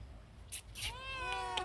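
A cat meows at close range in a village kitchen where chicken is cooked on a wood-fired stove, a few drawn-out, rising and falling cries following some soft clattering.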